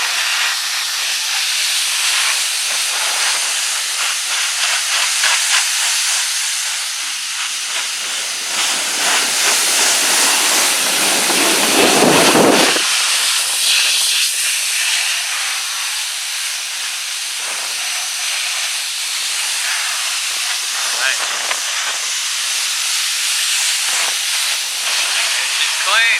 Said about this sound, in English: It's the Ryobi 1600 PSI pump spinning pressure washer.